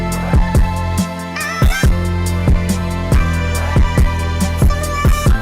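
A looping beat with punchy kicks and snappy snares over a sustained bass and melodic layer, steady rhythm, loud and close, no vocals.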